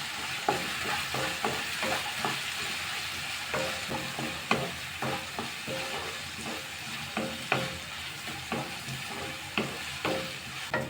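Sliced onion with green chilli, garlic and curry leaves frying on a low flame for beans poriyal: a steady sizzle with regular, rhythmic spatula scrapes close by.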